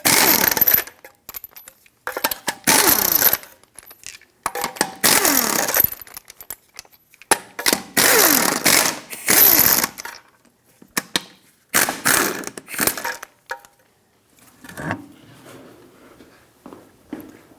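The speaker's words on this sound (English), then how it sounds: "Take a 21mm socket and remove all of your lug nuts and then take the wheel off." Lug nuts coming off a 1996–2002 Toyota 4Runner rear wheel with a 21mm socket, heard as repeated loud bursts of rapid mechanical rattling and ratcheting separated by short pauses, close up with no talking.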